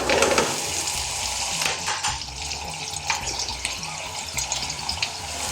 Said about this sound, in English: Okay guys, so first let's soften our onion up